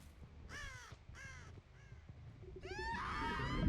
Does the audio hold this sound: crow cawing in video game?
yes